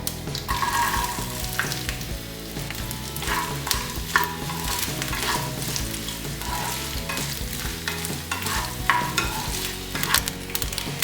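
Chopped coconut pieces frying in hot coconut oil with mustard seeds in a pan, for a Kerala beef curry: a steady close sizzle with the scrape and clatter of stirring throughout, no voices.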